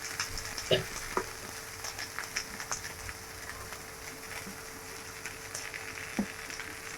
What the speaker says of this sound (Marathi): हा आता कोबी टाकून घेऊया आपण गॅस फुलच ठेवायचा आहे